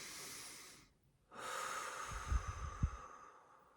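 A person draws a slow, audible breath after a short pause, followed by a few soft low thumps, close and quiet with no talking.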